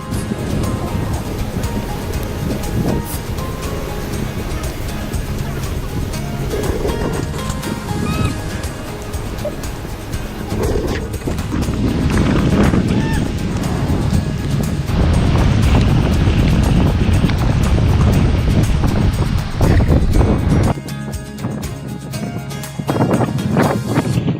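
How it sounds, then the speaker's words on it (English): Ocean surf rolls and crashes beneath a coastal bridge in Ireland, and gusting wind buffets the microphone. The roar is loud and continuous and swells toward the end. "You're literally just standing over the ocean while crossing this bridge"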